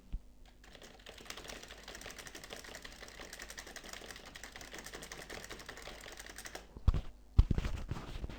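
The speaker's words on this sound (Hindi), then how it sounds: "अगर मैं यहाँ पे कोई पैरा टाइप करता हूँ" Rapid, steady typing of a paragraph on a computer keyboard, a close, quiet stream of key clicks with a few louder knocks near the end.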